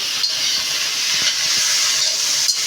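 Cauliflower stalks fry with mustard and chili paste, a loud, steady hiss of sizzling with faint scraping ticks scattered through it, without talk.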